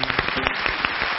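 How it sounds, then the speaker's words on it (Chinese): A television studio audience claps for a mother on a family game show, a short dense burst of applause heard up close. "来，掌声送给妈妈。"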